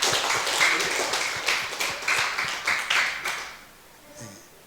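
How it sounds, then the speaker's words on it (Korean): Church congregation at a Christmas Sunday service clapping to welcome a newcomer, a loud run of rhythmic, roughly steady group claps that stops abruptly and leaves quiet room sound. "힘차게 한번 환영과 축복의 박수 해주시기 바랍니다"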